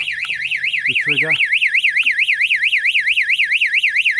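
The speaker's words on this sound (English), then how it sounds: "You certainly hear the siren, can't you?" A float switch alarm siren wails loudly and steadily with a rapid rising-and-falling electronic warble, briefly overlapped by a short spoken phrase near the start.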